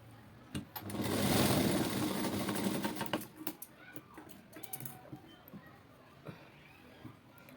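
A sewing machine stitches a seam on a plain blouse with a half-inch margin, a short burst of whirring running for about two seconds, followed by scattered clicks and handling noises under quiet talk.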